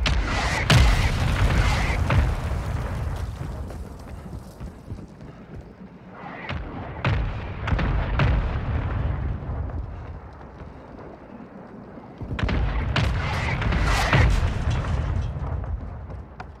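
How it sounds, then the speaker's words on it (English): Mortar strikes in Warzone Mobile, a string of heavy booming explosions in three loud clusters with rumbling decay between them, close and forceful. "Mortar support incoming!"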